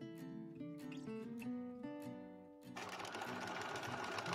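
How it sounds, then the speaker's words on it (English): A sewing machine runs steadily while stitching along the edges of a fabric phone stand, the sound growing busier and louder partway through. "So we're going to sew along these 2 edges here, apart from this gap in the middle"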